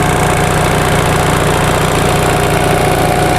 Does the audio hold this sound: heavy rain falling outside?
no